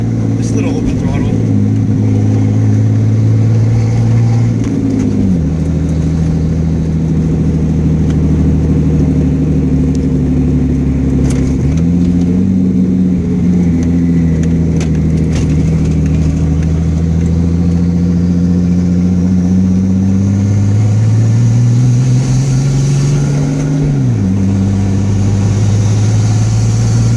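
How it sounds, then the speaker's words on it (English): 1970 Datsun 240Z with a turbocharged L28ET engine on a short open-throttle boosted run: a loud, steady low drone that climbs in pitch through several gear pulls with brief dips between, continuous throughout. "we're going to do a little bit of a boosted run, just a little open throttle."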